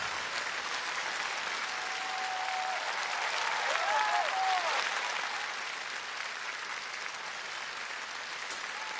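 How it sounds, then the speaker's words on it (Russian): Concert audience applause in a large hall, a steady, sustained wash of many hands clapping for several seconds, with faint tonal sounds and whistles above it. "Эти аплодисменты вам."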